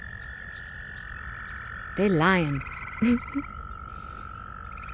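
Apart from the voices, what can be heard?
frogs croaking in the countryside at evening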